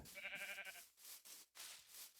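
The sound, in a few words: sheep bleating in a Minecraft-style game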